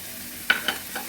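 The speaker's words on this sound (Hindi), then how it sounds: "मसाले को हम भून लेंगे अच्छे तरीके से।" Ground spices with a small pinch of nutmeg and mace frying in a pan for a white chana and chicken cholay curry, with a steady sizzle and two or three brief, louder stirring scrapes.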